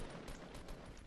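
Dense, rapid gunfire in the battle-royale game Fortnite, a loud, steady crackle of overlapping shots with a few sharper bursts standing out, with no voices.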